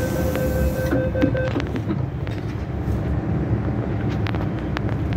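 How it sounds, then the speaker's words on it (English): A Hong Kong MTR M-train rumbles steadily with a constant low roar, a brief tonal whine at the start and occasional clicks of the wheels. "Luckily we actually get an M train for this video."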